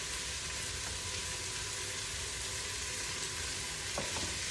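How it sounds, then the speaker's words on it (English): Chicken pieces frying in a pan for a coconut chicken curry, a steady broadband sizzle throughout with a couple of faint clicks near the end, no talking. "turning over the chicken pieces so that the pink sides are actually next to the heat"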